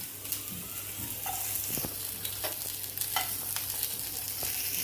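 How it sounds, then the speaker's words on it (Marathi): Chopped onion sautés in hot oil, a close, steady sizzle broken by a few clinks and scrapes of a stirring spoon against the pan. "कांदा छान परतून घेऊया"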